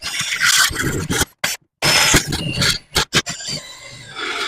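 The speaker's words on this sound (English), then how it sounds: "using a 1/4 inch to come back and drill them to size" A drill with a 1/4 inch bit enlarges pilot holes for a utility cart axle swap, giving harsh, grinding bursts broken by short pauses, close and loud.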